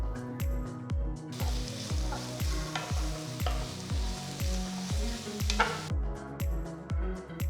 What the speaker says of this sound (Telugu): నెక్స్ట్ నేను చిన్నగా తరిగిన 2 మీడియం సైజ్ ఉల్లిపాయల్ని వేస్తున్నాను. వీటిని రంగు మారేంత వరకు వేయించాలి.